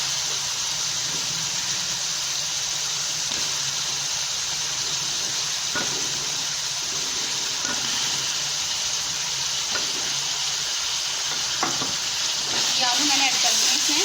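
Potatoes fry in spiced masala for a potato and cauliflower curry, making a continuous close sizzle with occasional stirring scrapes and clinks that grow busier near the end.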